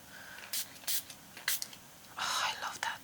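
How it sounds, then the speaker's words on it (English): Short bursts of spray paint hiss as black paint is sprayed straight onto a textured mixed-media Christmas ornament, several quick puffs followed by a longer, louder spray near the end. "I'm gonna just spray it directly."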